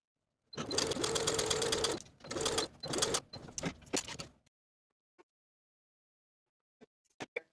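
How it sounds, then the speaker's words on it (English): A sewing machine stitches dart tucks in blouse fabric in a few short, close bursts of rapid whirring with brief stops between them, then near silence with faint clicks. "I'll start sewing each dart tuck following the lines that I transferred onto the fabric"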